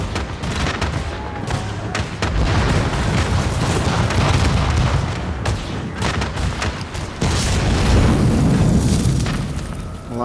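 A hostile vehicle blows up in Tom Clancy's The Division co-op campaign, with loud continuous booms and dense gunfire rolling through the whole stretch, no pauses in the barrage.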